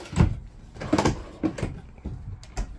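Drawers in the galley of an Avenger 26BK RV are pulled open, giving a few close, short wooden knocks and sliding bumps spaced about half a second apart, with no talk.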